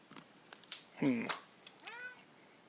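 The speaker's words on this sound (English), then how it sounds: "What are you doing, cat?" A house cat meows twice near a painter at work. The first meow is drawn out and rising, the second softer and shorter, with faint taps and small sounds around them.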